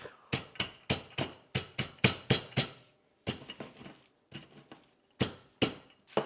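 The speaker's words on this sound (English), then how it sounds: "I think you should really beat them. You're going to have walnut dust." Walnuts are beaten into walnut dust with a hammer in a series of sharp, close, irregular knocks, bursts of rapid blows separated by short pauses.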